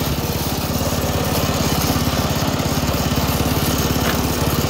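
A Predator 212 small engine fitted to an Allis-Chalmers WD tractor runs close and loud with a steady rapid chug, holding an even idle throughout.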